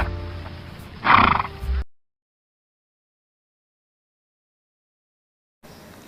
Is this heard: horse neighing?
yes